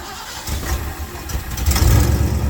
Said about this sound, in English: So with that, we'll roll the engine over.